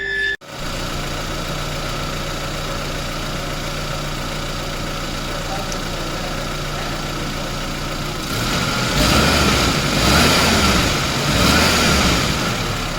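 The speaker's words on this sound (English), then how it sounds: "you can just check out the sound of the engine, how neat it is" Up close, the rebuilt engine of a 2009 Euro 3 Gypsy King starts with a short crank and then settles into a steady idle. Near the end it revs up louder in a few swells.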